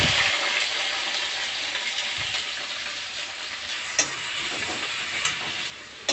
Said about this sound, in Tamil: கடுகு பொரிஞ்சிச்சு வெங்காயம் போட்டுக்கலாம்